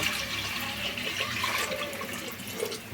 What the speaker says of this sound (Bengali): মশলার মধ্যে হালকা একটু পানি দিব,